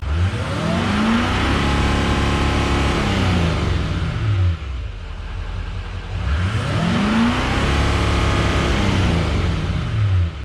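A 2014 Duramax LML diesel pickup truck engine idles with a deep rumble, then revs up and falls back twice in park, the pitch sweeping up and down, loud and close.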